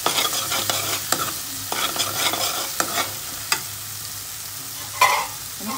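Tomato, onion and garlic-coriander masala stirred in a frying pan, with repeated close spoon scrapes against the pan over a steady sizzling hiss.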